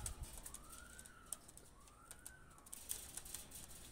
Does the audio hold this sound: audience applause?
no